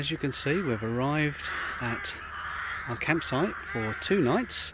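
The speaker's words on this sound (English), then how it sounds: "You probably hear the crows in the background" Crows caw in the background at a Caravan Club affiliated site in Fakenham, Norfolk, harsh calls repeating under a man's close, steady voice.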